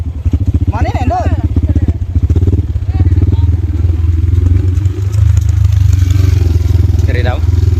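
A motorcycle labors along a rough mountain road, its engine a steady loud drone with rattling and clatter from the bumpy ride, while people talk over it.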